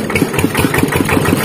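A walk-behind tractor engine runs up close during a gear test, a loud, steady low chugging with an even pulsing beat and no talking.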